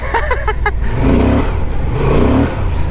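A Honda Transalp 750 motorcycle ridden off-road with its rear wheel spinning, giving a loud, steady engine drone with a brief rise in revs, and a voice speaking briefly at the start.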